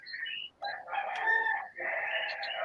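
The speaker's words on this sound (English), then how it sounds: "That's your neighbor's rooster, or do you own a rooster?" A neighbor's rooster crows clearly and fairly close, a couple of drawn-out cock-a-doodle-doo calls with a brief gap between them, with no talk over it.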